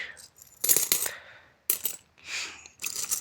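Several coins drop and clatter onto a hard surface in a few separate bursts, with short quiet gaps between the metallic jingles.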